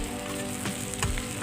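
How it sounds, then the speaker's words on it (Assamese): Potatoes frying with ground coriander and spices in a pan, a brief, close, even sizzle with a couple of small crackles. "আলুখিনি দিয়াৰ পিছত মই অলপ টাইম মই এনেকৈ ভাজি ল'ম।"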